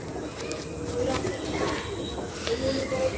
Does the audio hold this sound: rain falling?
no